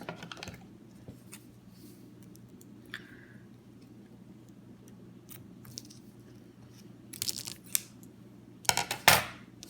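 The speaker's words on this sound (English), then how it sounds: "Then you're just gonna cut it off." Beading cord is snipped with scissors in a quiet room, giving soft scattered ticks before a few louder, crisp cutting snaps near the end.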